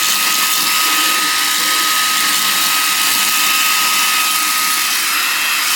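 A Xiaomi Mi Vacuum Cleaner Mini runs at high suction, a loud, steady, high-pitched motor whine and airy rush that holds constant close up throughout, with no talk.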